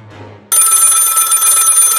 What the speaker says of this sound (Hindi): फिर अचानक फोन की घंटी फिर से बजने लगी।